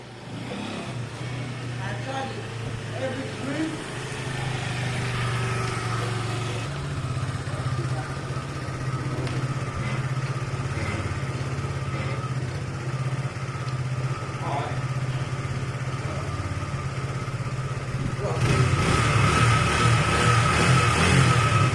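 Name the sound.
Zontes Tiger 125cc motorcycle engine running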